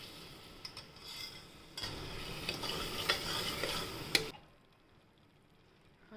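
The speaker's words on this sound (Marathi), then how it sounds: "मसाला टाकला तो सगळा तो परतून घ्यायचा" Masala spices sizzle in hot oil for rajma while a spoon stirs and scrapes the pan for about four seconds. The frying is close but soft, then suddenly drops to near silence.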